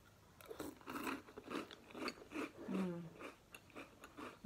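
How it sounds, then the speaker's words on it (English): Someone eats cereal close to the mic: repeated crisp crunches and bites come in a steady chewing rhythm, fairly quiet, and no talking is heard. "let's eat some cereal"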